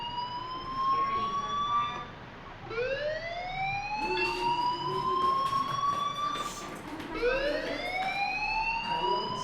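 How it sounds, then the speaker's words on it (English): A fire alarm in Life is Strange wails in repeated rising electronic sweeps, loud and continuous, with a brief dip between cycles and no talking. "Hey, do you hear that fire alarm? That means you should be outside."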